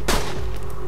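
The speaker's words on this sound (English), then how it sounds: "Who's shooting me?" Gunfire in the video game Borderlands 2, a single sharp burst at the start followed by a decaying rumble and scattered distant reports in the game soundscape.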